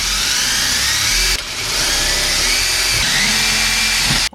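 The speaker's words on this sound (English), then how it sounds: "it says we have to drill 1, 2, 3, 4 1/8-inch holes" A power drill bores 1/8-inch holes into a 2001 C5 Corvette, whining loudly and steadily close by with a brief dip midway before it stops near the end.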